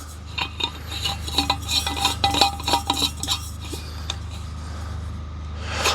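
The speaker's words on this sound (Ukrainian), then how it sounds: "Давайте спробую більшим короком закрутити менший термос." A larger stopper is screwed onto a smaller Esbit ISO stainless thermos, giving a run of close, small metallic clicks and scrapes with a steady low hum beneath.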